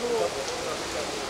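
Heavy rain pouring down in Ludhiana, a steady, dense hiss of water hitting surfaces, with a brief faint tonal sound near the start.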